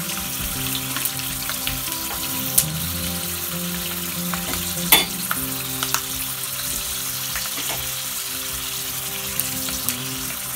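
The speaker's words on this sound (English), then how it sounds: "So we let this fry to 3 to 4 minutes." Gluten-free corn nuts fry in peanut oil with a constant loud, dense crackling sizzle, broken by a few sharp pops and clinks, with no talking.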